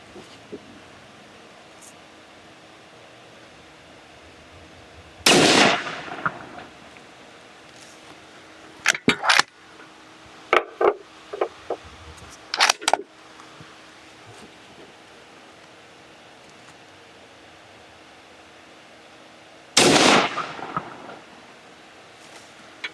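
Weatherby Mark V rifle firing 25 caliber factory loads outdoors, two loud sharp shots well apart with assorted clicks and handling noises between them.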